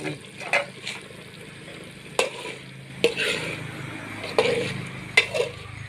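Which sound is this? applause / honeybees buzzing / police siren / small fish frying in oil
small fish frying in oil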